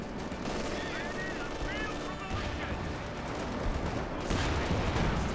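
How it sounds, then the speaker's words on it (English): Artillery fire in the World War II strategy game Company of Heroes 2: a dense, continuous roar of booming shells and rattling gunfire, with a commentator's voice faintly under the barrage. "Major artillery being brought on in"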